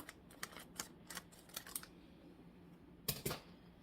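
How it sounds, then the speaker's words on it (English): Scissors make a run of quiet, crisp snips while cutting open an aquarium plant package. The snips come in quick uneven bursts, then pause before two final cuts, close by and without talking. "This one I need to use the scissors for."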